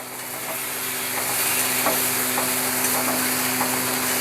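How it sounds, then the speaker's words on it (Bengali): Raw banana kofta curry is stirred in a pan as water goes in. It makes a loud, continuous hissing sizzle that swells slightly, with faint stirring taps underneath. "এবার একটু নাড়িয়ে জল দিয়ে দিতে হবে।"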